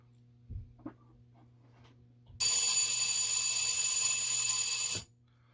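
An Electrolarm Model 700 alarm clock bell, an old electric clock, rings loudly and continuously for about two and a half seconds after a few faint clicks, then cuts off sharply.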